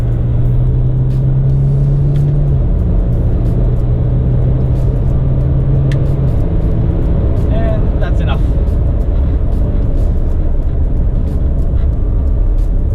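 A Jaguar F-Pace 30d SUV drives along with a steady low engine and road rumble. Someone talks over the sound throughout.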